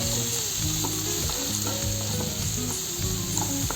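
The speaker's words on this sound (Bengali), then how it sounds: "কাঁচা লঙ্কার কুচি, কুচি করানো আলু আর মশলাগুলো দিয়ে একসাথে খুব ভালো করে কষিয়ে নেব" Chopped green chili, potato, onion and spices sautéing in hot oil for a Bengali fish curry, a steady close sizzle with scraping stirs throughout and no talking.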